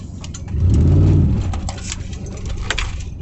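A Ford Expedition truck engine running with the catalytic converter removed, a close deep rumble that swells into a brief rev and then settles back to a steady idle, with light metallic clinks.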